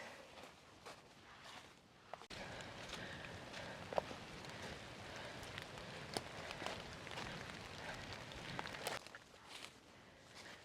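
Steady light rain patters on surfaces nearby, a continuous hiss with scattered sharper drops, no voices.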